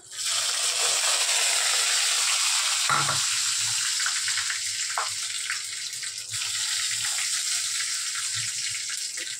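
Soya chaap frying in hot oil, a steady, loud sizzle that runs without a break, with a brief clatter near the start and faint kitchen knocks over the spitting hiss.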